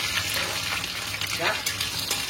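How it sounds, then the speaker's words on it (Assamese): Whole cloves, cardamom and cinnamon pieces fry in hot oil with a steady, close sizzle that holds for the whole short stretch, with faint stirring now and then. "এই লং ইলাচি টুকুৰা তো এইকেইটা এতিয়া ধুনীয়াকৈ ভাজি ল'ম"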